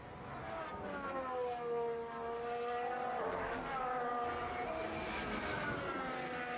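A Formula 1 car accelerates hard out of a fast double left-hander during practice at the Austrian Grand Prix at Zeltweg, its high engine whine rising and falling through the gears, loud and sustained, with a commentator's voice faintly beneath.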